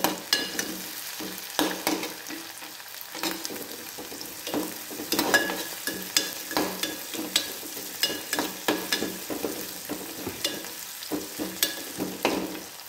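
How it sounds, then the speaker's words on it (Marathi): Onion hitting hot tempering oil for stuffed capsicum bhaji, sizzling steadily up close while a spoon stirs and scrapes the pan in irregular clinks and knocks, with no talking. "आता इथे कांदा टाकला फोडणीला"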